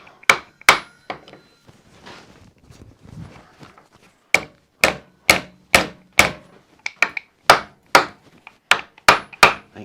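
A brass hammer strikes a steel workpiece held in a vise, knocking it down onto its parallel. Sharp, loud, ringing metallic blows come near and alone, first a few spaced hits, then a long series of steady, evenly spaced strikes.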